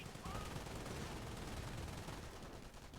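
Machine gun fire from a Bren gun in the Company of Heroes video game, rapid bursts crackling continuously at low level across a busy battle soundscape.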